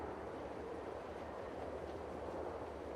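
A train in Farming Simulator 22 rumbles steadily throughout, a continuous broadband rolling noise with rail clatter, fairly loud and close with no talking.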